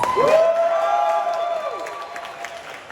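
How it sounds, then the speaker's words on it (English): A comic convention audience applauds and cheers loudly at a Q&A panel, with a whoop rising above the clapping that gradually fades. "Let's give this guy a round of applause."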